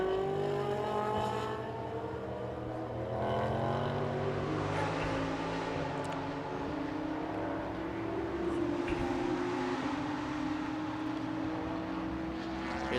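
A Ferrari GT race car laps the circuit during GT Asia qualifying, its engine droning in rising and falling tones with gear-change shifts, heard at a distance among other cars passing.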